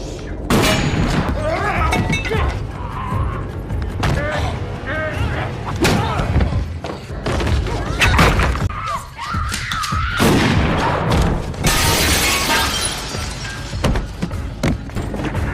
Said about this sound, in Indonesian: Tanpa pikir panjang, James pun langsung menembak para pemuda tersebut.